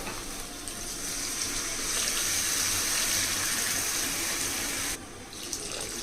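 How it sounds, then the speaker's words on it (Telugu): Water pours in a steady, hissing stream for several seconds into a cooking pot of egg curry, about a quarter litre, then stops abruptly, close by and moderately loud. "గ్లాసం పావు వాటర్ వేసాను అంటే పావు లీటర్ వరకు వాటర్ వేసానండి"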